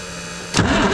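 An old diesel semi truck engine starts cranking abruptly after a low steady hum, a loud, close, rough churning that lasts under half a second.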